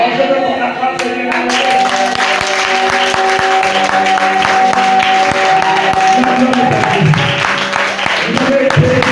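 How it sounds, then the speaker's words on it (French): A congregation at a church worship service claps together in a dense, continuous burst of applause, with voices and music running underneath. "Oh, je veux qu'on acclame Seigneur."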